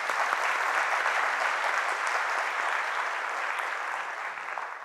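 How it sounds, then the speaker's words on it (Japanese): Dense, steady applause fills the hall at an advertising award ceremony at Toranomon Hills in Tokyo, a large audience clapping continuously before it eases slightly at the end. "皆様、今一度盛大な拍手をお送りください。"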